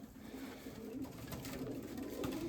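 A pigeon coos steadily in a pigeon loft, low throaty calls repeating close by over a constant background of other birds.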